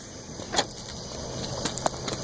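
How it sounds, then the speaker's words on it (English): A class B truck's side door is opened outside: a few sharp latch clicks and a metallic clunk, spaced apart over a steady background hum, with no talking. "I'm going to open my door up."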